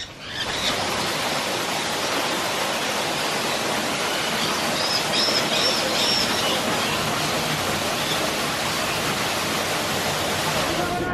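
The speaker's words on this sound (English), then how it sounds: "we've got a nice waterfall down here as well." A waterfall at Loro Parque, Tenerife, pours in a loud, steady broadband rush that fills the whole scene without pause, with faint voices barely audible beneath it.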